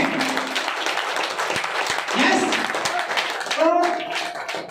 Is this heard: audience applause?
yes